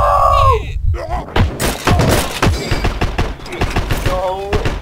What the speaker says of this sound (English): I just got killed by a grenade